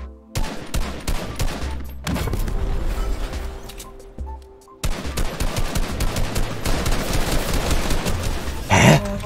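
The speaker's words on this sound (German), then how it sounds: "Ich werde beschossen von dort." Gunfire in the video game Fortnite near a gas station: rapid bursts and sustained automatic shots, fairly loud, stopping briefly and then resuming, with one sharp louder blast near the end.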